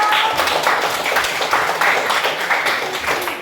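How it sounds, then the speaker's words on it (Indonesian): Classmates applaud together in a classroom, a steady patter of many hands clapping close by, with little talk beneath it. "Tepuk tangan dong."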